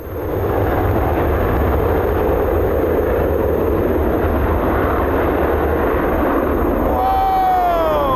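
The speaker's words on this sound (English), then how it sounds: "This F-35 drying up a wet runway." An F-35 fighter jet drying a wet runway with its engine, a loud sustained roar that holds steady throughout, with a rising whine sweeping upward near the end.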